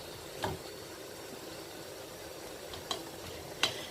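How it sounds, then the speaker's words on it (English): Rice being stirred into a pot of jambalaya, with a soft steady sizzle under three brief scraping strokes of a spoon against the pot, close and fairly quiet, no talking. "give it a stir as you go, as you add the rice on"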